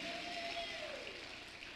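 Church congregation in Panama applauding during a service, a steady wash of clapping with a faint cheer or whistle sliding through, moderately loud and continuous, with no speech over it.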